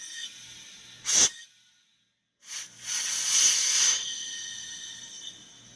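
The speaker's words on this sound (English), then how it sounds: "always vacuum release before turning off your motor" Vacuum release on a Vevor 2L professional casting system: a sharp hiss burst, then after a pause a longer rushing hiss lasting over a second, settling into a faint steady background tone.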